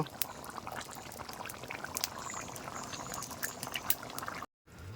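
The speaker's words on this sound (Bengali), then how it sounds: "তো ঝোলটা খানি ফুটিয়ে নেব" Chicken curry gravy simmering in a pot, a faint, steady bubbling with small irregular pops and gurgles, close and alone, briefly cut near the end.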